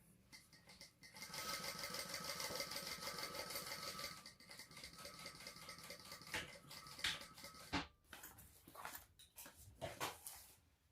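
Sewing machine stitching a bag seam at about a quarter-inch allowance, a steady close mechanical whir running for several seconds, then pausing and restarting in shorter bursts with handling clatter.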